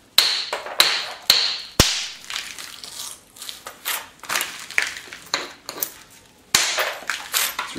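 Stone struck with a hammerstone to knock big flakes off a discoidal core, sharp loud cracks spaced a second or so apart, each followed by faint clinks and gritty rattling of the stone, with no talk.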